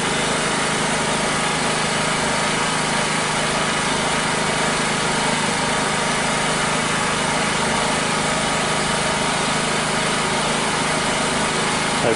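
A petrol leaf blower engine runs steadily at a constant high-pitched buzz, close and loud, without pause or speech, while it is being serviced for ongoing problems.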